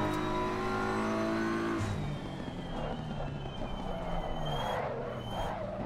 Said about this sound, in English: there's actually a variety to the sound, giving you a good idea what the tire is doing